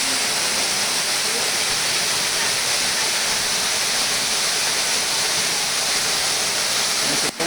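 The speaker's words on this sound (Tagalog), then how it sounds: "Ito na guys yung Tungtong Falls guys." Tungtong Falls pours with a steady, dense roar of falling water that holds even and unbroken throughout, without talk.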